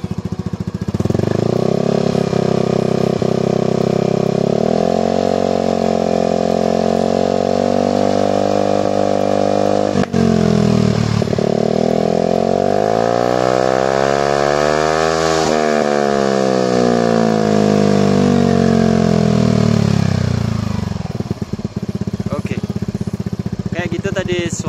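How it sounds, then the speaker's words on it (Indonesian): Yamaha NMAX scooter fitted with a DOS Oval long aftermarket silencer, revved steadily with the engine note climbing and falling through high RPM, a loud continuous exhaust drone close to the bike for over twenty seconds. "Jadi suara knalpot DOS ini lebih keras kalau dipasang di motor NMAX."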